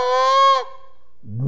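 A goose flute blown with shifting air pressure to make a low, deep, hollow goose call: a loud honk with rich stacked harmonics that drops and fades, then a second lower, raspier call begins.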